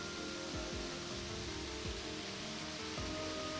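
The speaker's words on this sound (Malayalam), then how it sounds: "നമ്മളെ റോഡിൻ്റെ മുകളിലേക്ക് വീയുന്നൊരു വാട്ടർഫാള്" Steady rushing water from a waterfall pours continuously onto a road, a broad dense roar with occasional low thumps, like a stream of water spilling hard onto a surface nearby.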